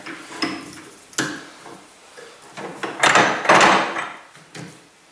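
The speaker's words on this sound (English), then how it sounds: "Take your centre finder again, slide it through the tailstock into that reference point for your drive centre." A metal centre finder slides through the tailstock of a wood lathe while a spalted beech lamp blank is set up, giving several close knocks and clicks and then a longer scraping slide, no speech.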